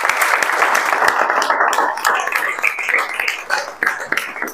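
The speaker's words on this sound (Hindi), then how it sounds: "तो आप ताली बजा सकते हैं।" An indoor audience at a student results celebration applauding, dense continuous clapping from many hands, loud and close throughout.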